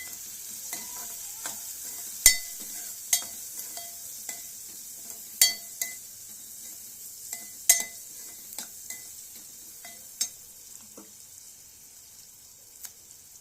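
Eggplant curry with onions sizzling softly in a pan as turmeric goes in, with scattered clinks and scrapes of a spoon stirring against the metal over a steady frying hiss.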